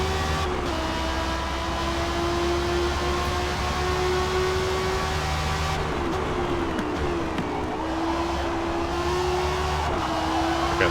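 Lamborghini R1 class race car engine in Forza Motorsport, a loud sustained high-revving drone holding steady pitch, briefly dipping and climbing through a shift midway, continuous and close.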